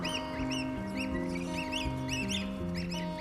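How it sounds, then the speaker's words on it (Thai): Brahma chickens clucking close by, several short repeated clucks and calls over a steady low background hum, with no talking. "ดีครับเนี่ยไก่บ้าม่าครับ"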